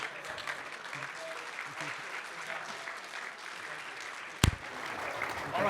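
Audience applause at a tech conference stage demo, a steady dense wash of clapping throughout, with a sharp loud thump near the end and some talk mixed in.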